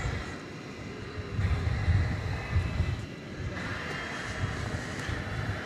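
A UPS Boeing 767 jet at night at DFW Airport gives off a faint, steady engine rumble with some wind noise, distant and without talk.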